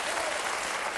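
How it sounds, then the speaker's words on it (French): A French TV studio audience applauds steadily with dense, loud clapping that fills the moment, no voices above it. "ça s'applaudit"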